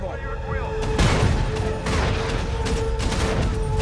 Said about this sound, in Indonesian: Kapten Ernest pun langsung berkomando agar meriam segera ditembakkan untuk menghadang pergerakan musuh